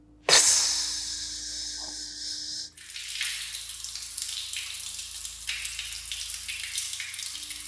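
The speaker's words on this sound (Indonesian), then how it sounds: "ada suara keran." A water tap at a mosque washroom on a mountain turns on and runs, a steady hiss of flowing water after a brief sharp onset, close and alone.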